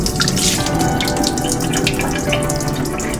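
Rice being washed by hand in water at a kitchen sink, with a steady, close rush of running tap water and swishing throughout, no talking.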